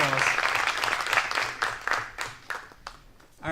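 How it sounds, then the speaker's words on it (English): Conference audience applauding at the 2018 Annual Emerging Markets Institute Conference, a dense burst of clapping that fades over a few seconds with a few isolated claps trailing off at the end. "Give a round of applause."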